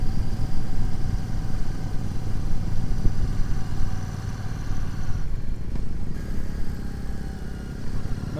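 A group of Royal Enfield motorcycles idles together at an organized dealership ride near Chambéry, a dense, continuous low engine rumble close by with steady clatter and no break.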